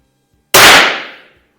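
A single shot from an Anschutz 1827 biathlon rifle cracks out sharply and loudly after a moment of silence, its report decaying over about a second.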